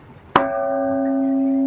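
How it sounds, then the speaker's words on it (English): A peace bell is struck once on the equinox at an annual ceremony, giving one sharp clang that settles into a loud, steady ringing hum sustained to the end with no talk over it. "he will ring the bell first"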